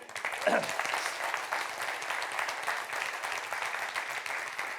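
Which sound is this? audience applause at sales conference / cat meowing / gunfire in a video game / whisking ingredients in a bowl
audience applause at sales conference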